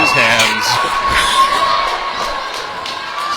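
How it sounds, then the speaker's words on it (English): Youth hockey crowd of parents cheering and shouting after a 12U B game's tying goal in the third period, a loud sustained roar of mixed voices and whoops filling the rink. "And the crowd goes wild."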